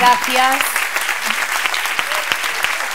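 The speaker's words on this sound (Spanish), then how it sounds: "Un fuerte aplaudiment per Alejandra Abad." Steady applause from a conference audience fills the clip, with a few voices calling out at the very start.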